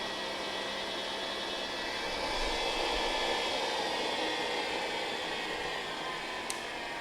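A Jet mini lathe motor spins at around 2,000 RPM, producing a smooth, steady whirring hum with an even airy hiss and no load on it, close by and continuous.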